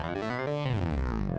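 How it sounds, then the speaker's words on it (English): A keyboard glissando on GarageBand for iPad runs as a quick sweep of synth notes that slides down in pitch over about a second and a half, with bright harmonic tones and no voices. "Glissando sounds like this."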